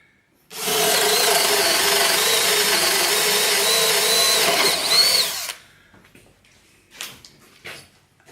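A Makita 10.8V cordless drill whines loudly and steadily at 1700 rpm for about five seconds as it bores into wood, then stops, followed by a few faint knocks and clicks.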